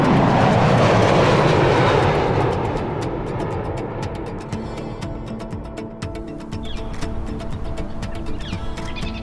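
Boeing 787 jet engines roaring during a high-altitude flight test, a loud steady broadband rumble that slowly eases, with a faint bird chirping over the quieter tail.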